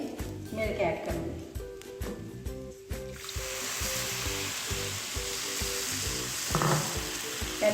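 Milk poured into roasted semolina for suji halwa, hissing and sizzling in the pan. A broad, steady fizz rises partway through and continues under someone speaking, with a few scraping stirs.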